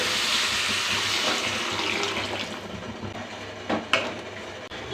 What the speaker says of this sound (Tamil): குழம்புக்கு தேவையான அளவு தண்ணி சேர்த்துக்கிறேன்